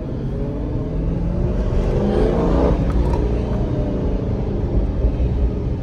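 A Challenger SRT8 engine fitted with a K&N cold air intake revs and accelerates up close, a steady loud roar with a rising whine partway through, no voices.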